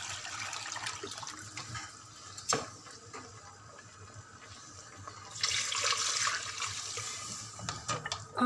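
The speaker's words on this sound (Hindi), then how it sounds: "अब इसके अंदर जो यखनी निकाली थी वो डाल देंगे।" Beef stock is poured into a pot of fried beef trotters and masala for paya, producing a watery splash and gush that swells louder midway, with faint clinks around it.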